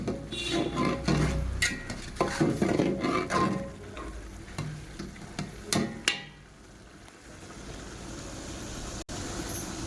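Soaked soya chunks fried and stirred in a pan for a North Karnataka style soya curry, with a spatula scraping and clattering against the pan in irregular bursts over a low frying hiss. The stirring grows sparser toward the end.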